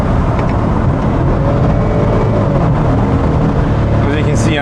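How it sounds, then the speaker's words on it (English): Maserati Quattroporte GTS exhaust droning steadily at cruise, a constant loud low rumble mixed with road and wind noise from inside the moving car, with a brief higher whine near the end. "The exhaust sounds really, really good."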